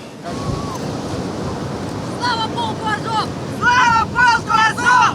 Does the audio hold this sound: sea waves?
yes